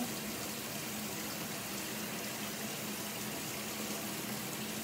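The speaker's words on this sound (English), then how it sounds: "Let me wash my coffee cup from this morning." Running tap water washing out a coffee cup, a steady continuous stream and splash at close range with no talking.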